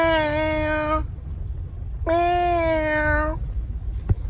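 Critter the cat gives two clear, drawn-out meows separated by a short pause, close and prominent over a low background rumble, with a faint tap at the very end.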